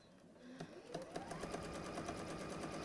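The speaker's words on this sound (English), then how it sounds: "I am sewing either side of those diagonal lines" A sewing machine stitches quilted fabric along diagonal lines, its needle running in a steady, fast, even rhythm that speeds up and then holds constant, close and clear.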